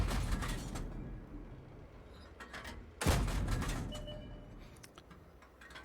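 Tank cannon fire in the World of Tanks video game, with a single loud booming shot near the middle that decays over a couple of seconds over a dense rumbling battle background, with no talking.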